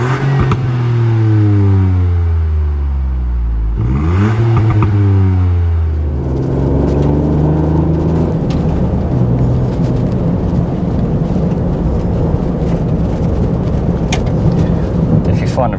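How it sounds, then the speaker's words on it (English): A Ford Fiesta ST engine revs up and down repeatedly in rising and falling sweeps, loud and close, followed by a rough idle scattered with crackling exhaust pops and bangs. "depending on how high you rev it, you got those little pops and bangs from the exhaust as well"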